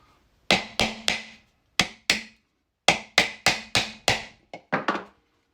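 Sharp hammer whacks on a plastic basket hilt bracket being flattened, loud close strikes in uneven clusters with short pauses, about a dozen blows with no talking.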